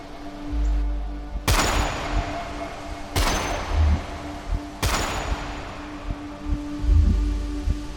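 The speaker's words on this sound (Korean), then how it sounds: "새벽에 울린 세 발의 총소리와 함께 이 이야기는 시작됩니다." Three loud gunshots crack out, evenly spaced about two seconds apart, each with a ringing echo tail over low background rumble.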